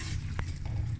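Boiled potatoes are stirred and fried in a pan, a soft continuous sizzle with a brief scrape of the spoon, close and fairly quiet.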